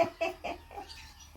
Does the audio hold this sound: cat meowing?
no